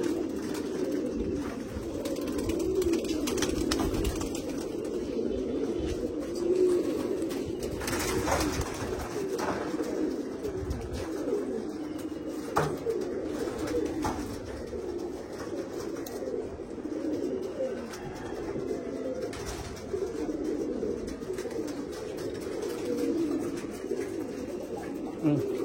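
Blue-coat pigeons coo continuously, a close, steady, low burbling chorus from several birds with occasional soft clicks and shuffles mixed in.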